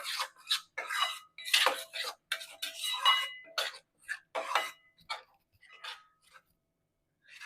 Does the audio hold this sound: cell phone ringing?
no